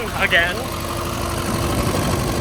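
A car engine idles after a used replacement carburetor was fitted, a steady close mechanical rumble with a faint whine, and a voice briefly heard at the start.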